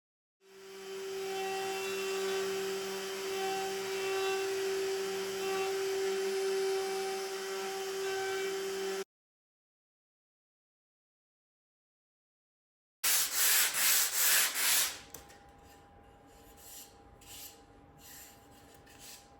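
CNC machine cutting the ends of wooden boards fed up through a slot in the table, with a loud steady whine and routing roar, a pause of silence, then a harsh burst of cutting that fades to lighter machine noise.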